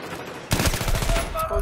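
Shotgun fire in a multiplayer shooter game set in a Metro map, sounding as a sudden loud burst that leads into a rapid run of close blasts with ringing tails.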